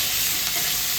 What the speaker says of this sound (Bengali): এইগুলো একটু হালকা ভেজে নিই